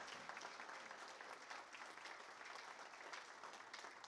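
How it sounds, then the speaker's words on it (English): A crowd applauds at a Tennessee Tech sports press conference in Cookeville, steady clapping sustained for several seconds, fairly distant and soft in the room. "big round of applause for Christy"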